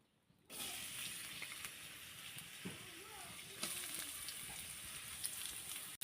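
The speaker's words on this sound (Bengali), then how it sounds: "পেঁয়াজটা আমি 2 মিনিটের মতন ভেজে নেব।" Chopped onion frying in oil in a wok (kadai), a steady broadband sizzle that starts abruptly and holds close and even throughout, with faint clinks over it.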